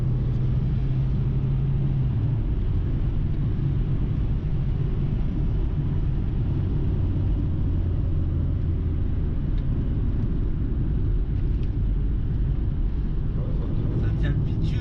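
A 1992 Volkswagen Golf 3 GL 1.6 with a 75 hp engine on the move, heard from inside as a constant low engine and road rumble with steady drone.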